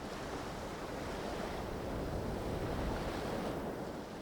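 Waves driven by a northwest wind break on a remote island beach, a steady, dense roar of surf with wind buffeting the microphone and no voices.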